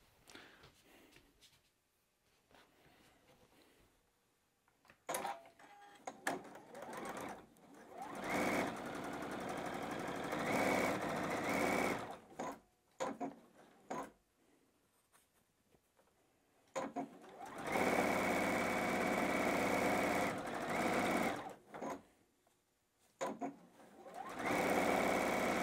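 A sewing machine runs in several bursts, stitching the long edges of a batik quilt block, with quiet pauses between runs as the fabric is turned and matched.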